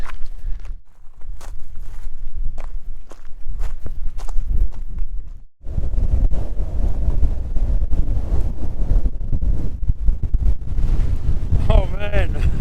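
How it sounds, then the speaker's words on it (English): Heavy wind buffets the microphone with a constant low roar and gusts on the Larapinta hiking trail, while a person speaks over it and moves about. "Oh man, it's so windy."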